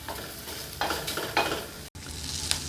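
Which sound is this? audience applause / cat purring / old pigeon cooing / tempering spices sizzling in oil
tempering spices sizzling in oil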